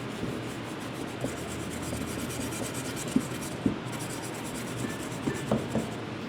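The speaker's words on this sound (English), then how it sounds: "soft bristle brass brush because I don't want to scar the surface. I just want to get the loose char off" A soft-bristle brass brush scrubs loose char off a burnt wooden chef knife block, giving a steady, low, continuous rasping rub with a few small knocks and scrapes near the end.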